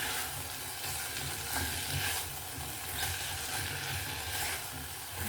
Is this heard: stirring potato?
yes